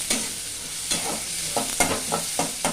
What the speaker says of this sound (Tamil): வெண்டைக்காய் கூட போட்டு வதக்கிக்கலாம்